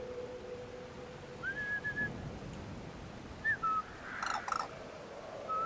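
A caged cuckoo bird in the video game Brothers: A Tale of Two Sons gives a few short whistled calls, the first a sustained note and then clipped chirps, faint over quiet ambient game noise, with no talk.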